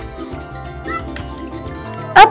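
A cat meows once, a short clear call near the end, inside the indoor area of a cat boarding house, over low background hum and faint movement.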